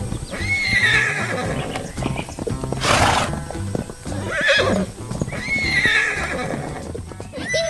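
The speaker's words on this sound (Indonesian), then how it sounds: "kuda-kuda yang lucu sedang bermain di tengah lapangan hijau, berlarian dengan ceria" Horses in an animated farm scene on a green field whinny several times as hooves clip-clop in quick running rhythm. The sound is close and lively, with a faint voice in the background.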